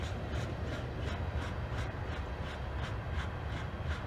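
Ohio South Central Railroad train rolling steadily past on rusty rails, a continuous close rumble with a regular clickety-clack of wheels over rail joints throughout, no voices.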